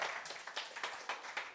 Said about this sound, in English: Round of applause right there.